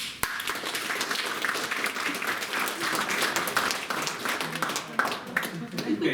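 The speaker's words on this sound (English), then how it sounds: "Okay, so you produce this clapping sound, right?" Many pairs of hands clap together in a sustained, dense burst of applause during a demonstration about wielding a Viking sword, loud and continuous for about six seconds.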